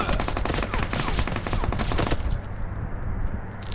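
Loud, dense rapid gunfire from a multiplayer shooter game rattles in continuous bursts for most of the moment, then drops away to a softer background of game ambience.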